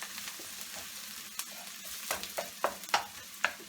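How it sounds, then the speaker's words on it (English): Two cloves of freshly chopped garlic fry in a pan over medium flame for chicken keema mattar, a soft, fairly quiet sizzle with a few sharper spoon taps and stirring clicks toward the end. "so this is 2 cloves of garlic that I'm adding to the pan"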